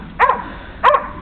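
Two sharp barks from a dog ring out about half a second apart, close and loud against a quiet background.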